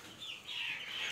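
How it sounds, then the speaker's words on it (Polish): High thin peeping of young chicks in a chicken tractor, several overlapping calls, fairly close over a soft background. "Kurczaki teraz piszczą."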